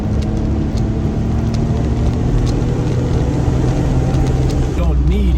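A Brabus Smart car driven fast around corners gives off a steady, loud engine drone from inside the cabin, with a voice talking over it.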